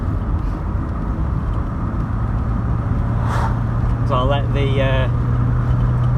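A 1986 car held in second gear engine-brakes down the steep Winnats Pass in the Peak District, a steady, droning engine hum inside the cabin under a voice.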